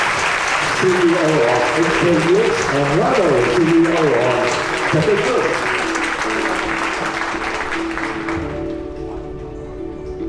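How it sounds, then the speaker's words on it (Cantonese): An audience claps in welcome for the CEOs of HKEX and Cathay Group at a fireside chat, a dense, steady wash of applause filling the room while a host speaks over it, fading near the end. "大家俾啲掌聲歡迎"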